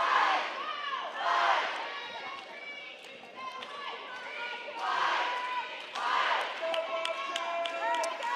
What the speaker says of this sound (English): Crowd's getting a little cheering going on.